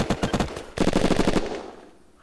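A sentry gun in Unturned fires two rapid bursts of automatic gunfire, close and loud, the second burst longer before trailing off into a brief echo.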